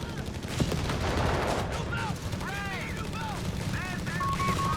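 Machine gun bursts and scattered gunfire in a Company of Heroes 3 battle between Wehrmacht and US forces, rattling under game voice lines and ambient combat noise.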